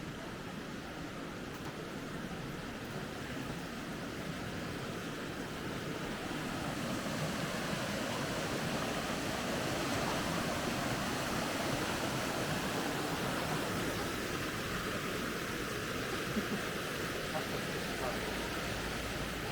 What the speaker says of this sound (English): Okay, so we are coming up closer to the waterfall